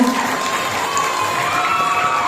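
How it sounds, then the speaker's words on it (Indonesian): A school audience applauds and cheers for a student council candidate pair at a class democracy event, a dense, steady wash of clapping and crowd noise throughout. "Beri tepuk tangan untuk paslon 2."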